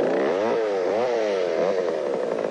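A chainsaw cuts wood, its engine pitch rising and falling in repeated bogging sweeps under load, loud and close throughout.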